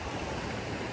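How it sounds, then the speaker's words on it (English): Ocean waves on a beach make a steady, broadband wash of surf, continuous and even, with no voices. "I hope y'all enjoyed the sounds of the ocean"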